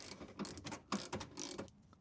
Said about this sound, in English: a couple of bolts you gotta take out that connect to the bumper here